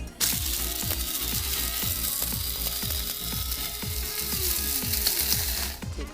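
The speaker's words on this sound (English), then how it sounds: "I've packed my grinder full of the dried celery, and now we're going to grind it up" An electric grinder packed with dried celery whirs loudly and steadily for about six seconds, with a rhythmic ratcheting clatter as the dried pieces break down into powder, stopping abruptly at the end.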